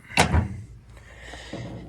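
A screwdriver is struck to knock out the shear pin on a John Deere bush hog: one sharp metallic thud close by, then a fainter clunk and a later light knock.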